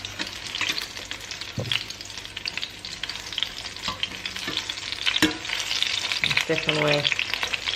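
Food frying in hot oil at a home stove, a continuous crackling sizzle with scattered pops and stirring clinks, and a brief spoken word.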